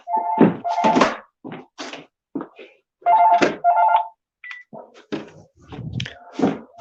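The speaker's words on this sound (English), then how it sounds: "let me just please take that phone off." A telephone rings in a mosque talk setting, with repeated ring bursts alternating with clunks and handling noises at close range; no speech is heard.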